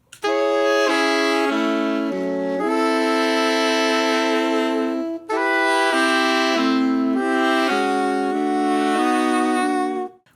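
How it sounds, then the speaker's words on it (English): Three physically modeled saxophones, soprano, alto and tenor, play a steady harmonized phrase of sustained and moving notes for about ten seconds, loud and close with no talking. "Now 3 saxophones, soprano, alto, tenor."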